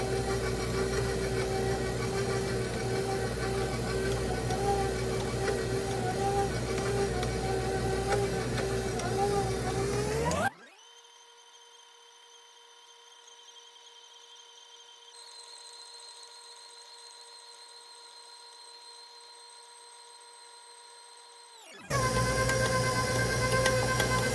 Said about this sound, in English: slowly add my butter and mix it until it's the texture of kind of a coarse sand